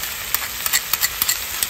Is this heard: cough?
no